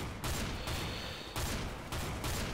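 Nova pump shotgun blasts in CS:GO on the Italy map: a few loud, sharp shots a second or so apart, each with a brief echoing tail over steady game ambience.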